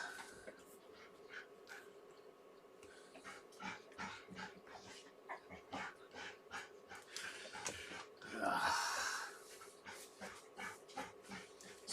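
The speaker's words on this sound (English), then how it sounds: "Sounds like the puppies are going out for a walk with puppies, dogs." Dogs and puppies whimper, whine and pant in short, irregular bursts at a moderate distance, with a louder yelping flurry partway through over a faint background hum.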